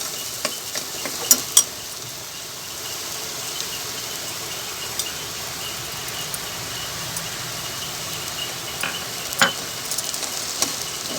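Masala with crushed peanut powder being sautéed in a pan over low heat for a gawar batata curry, giving a soft continuous sizzle broken by occasional stirring scrapes and clinks, with no talking.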